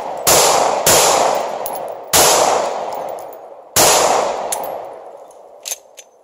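Four sharp gunshots from a semi-automatic handgun firing rounds from a magazine, spaced irregularly with ringing decay after each, plus a faint click near the end.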